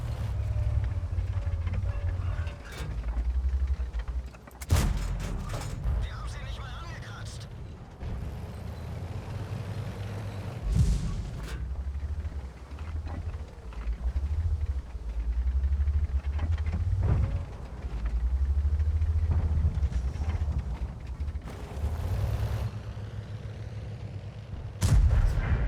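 Tank cannon shots ring out in World of Tanks while firing at a Waffle tank destroyer, several sharp booming reports spread over a steady engine rumble and battle noise.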